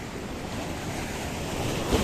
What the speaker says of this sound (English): The sea is getting very angry.